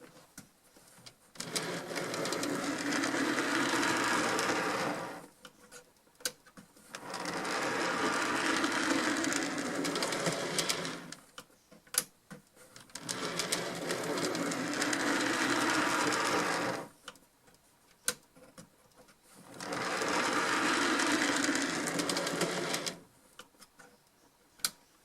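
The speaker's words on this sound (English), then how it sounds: "let's see if this Bachmann locomotive has any life in it." A small Bachmann model locomotive with tender drive runs in four separate whirring bursts of several seconds each, a steady buzzing motor drone with ticking undertones, close by and separated by short quiet gaps.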